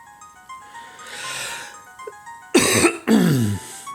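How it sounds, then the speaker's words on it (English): Two harsh, close coughs burst out one after the other near the end, following a quieter stretch of breathy background noise. "Sorry for the cough."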